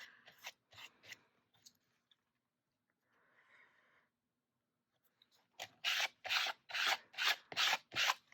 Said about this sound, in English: I'm just going to use a credit card to spread that on there